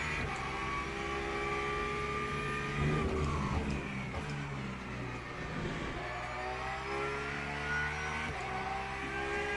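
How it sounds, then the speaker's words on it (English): Race car engine in Le Mans Ultimate revving hard, rising tones climbing through gears with a couple of dips and shifts around the middle, loud and continuous without talk. "Oh, you gotta rev the nuts out of it."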